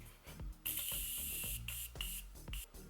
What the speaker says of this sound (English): Let me use a setting spray.